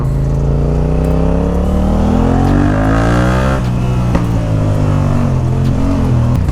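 A Yamaha MT-07 motorcycle engine revs up loudly nearby, its pitch climbing then dropping back with a deep rumbling tone.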